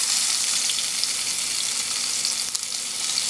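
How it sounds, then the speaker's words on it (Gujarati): Chicken seekh kabobs shallow fry in a pan over a low flame, giving a loud, steady, close sizzle and crackle that runs without a break and without any voices. "હું અહીંયા તરવાનું શરૂ કરી નાખી છું સાવ શેલો તાપ ઉપર"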